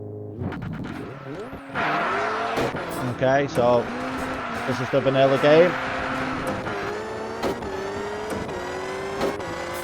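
Four-wheel-drive rally car with 300 brake horsepower, driven in Richard Burns Rally, engine revving and shifting pitch through gear changes with occasional tyre skids, running steadily beneath a voice.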